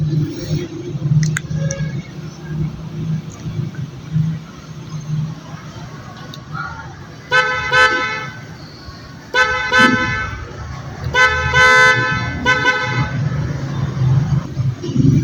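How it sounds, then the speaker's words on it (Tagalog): Several loud motorcycle horn honks, short and longer blasts in bursts, over a running engine's low rumble. "goods naman yung busina natin, malakas"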